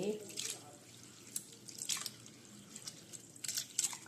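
Small sago pearls being washed in a bowl of water, with soft intermittent splashes and drips sounding close by in a quiet kitchen.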